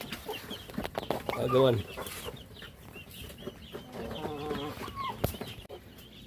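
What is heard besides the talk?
chicks and chickens clucking while being fed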